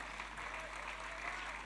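Church congregation clapping together during a Sunday worship service, a steady, dense wash of applause that holds at an even level throughout, with no voices standing out.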